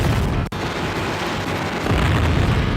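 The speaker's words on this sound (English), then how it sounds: "So much explosion, and even Arcus would be overwhelmed by all the booms." Explosions in the retro video game Robocop vs. The Terminator roll into one another as a loud, continuous booming rumble, with a brief dropout near the start before the blasts pile up again.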